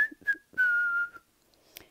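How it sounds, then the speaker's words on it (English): A person whistles to call the Easter rabbit: two short whistled notes, then a longer sustained tone that slides slightly downward, heard close and clear in a quiet room. "you have to whistle for him, like this."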